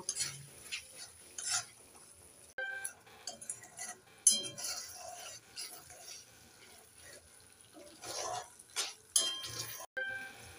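Goat fat being stirred into a jackfruit curry in a pan, with scraping and clinking of a spoon against metal and intermittent wet, sizzling stirring noises, close and moderately quiet.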